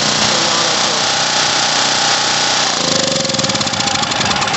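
A Champion 4000 generator's small engine runs after a carburetor repair, loud and close, with a steady chugging drone that turns rougher and more pulsing partway through as the auto choke acts.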